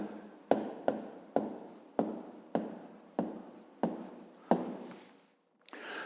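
Pen or pencil writing by hand on paper, heard as a run of about nine short, evenly spaced scratching strokes, close and fairly quiet, with a brief pause near the end and no talking.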